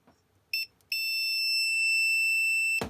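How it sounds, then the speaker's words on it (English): A continuity tester beeper, used for fault finding on small boat electrics, gives a short chirp and then a steady, loud, high-pitched electronic tone held for about two seconds, close by and alone. "We'll just test the beeper."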